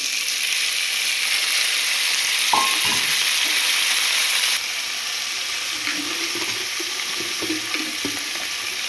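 Chopped tomatoes tumble into onions frying in a pan for a Telugu chola curry, giving a steady close sizzle with a brief scrape and soft stirring clatter midway, no voices.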